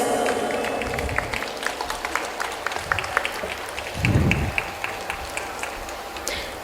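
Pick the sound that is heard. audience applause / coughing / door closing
audience applause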